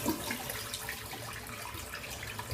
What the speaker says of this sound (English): I'm just going to empty the bowl out of water and refill it with some nice hot water